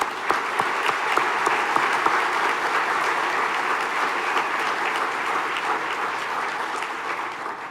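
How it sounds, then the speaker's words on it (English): A theater audience gives a round of applause at a medical school white coat ceremony, a dense, steady roar of many hands clapping that holds evenly throughout with no voices. "So how about a round of applause?"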